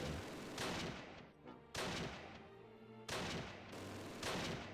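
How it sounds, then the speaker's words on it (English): Machine guns fire in the Close Combat wargame, set around St. Oedenrode, as four loud broadband bursts of gunfire that each sustain and fade, with no talking. "let's get the MGs firing a little bit as well"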